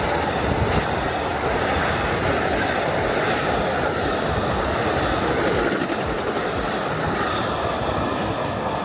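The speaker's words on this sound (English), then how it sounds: "The only thing that moves fast here is this train." An Amtrak Floridian passenger train passes through Okeechobee, Florida, a loud, sustained roar of wheels and rail noise filling the whole stretch at close range with a steady rumble and no let-up.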